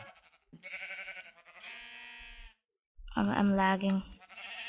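Sheep bleating in Minecraft, several wavering harmonic bleats in a row, one loud and close, with a gamer talking over them.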